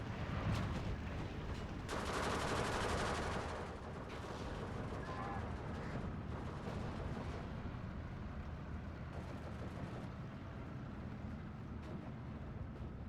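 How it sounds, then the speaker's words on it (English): Machine gun fire in the Steel Division II video game rattles through a dense, continuous wash of battlefield noise, with a louder burst early on and steady sustained firing after. "Machine gun coming in."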